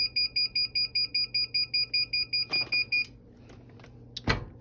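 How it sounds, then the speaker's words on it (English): A timer used during heat pressing of a vinyl logo beeps in a steady run of about a dozen quick paired electronic tones, then stops, followed by quiet room noise and a brief knock. "Don't mind the timer."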